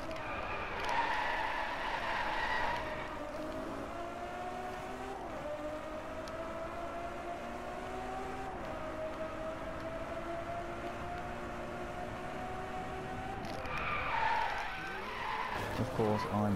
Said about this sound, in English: Got a bit of drifting for you.